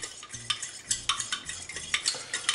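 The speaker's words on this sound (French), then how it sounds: "Votre beurre commence à bien être fondu." Butter melts in a pan for a béchamel sauce, heard as soft rhythmic scraping and stirring of a utensil against the pan over a faint, low sizzle, close and alone.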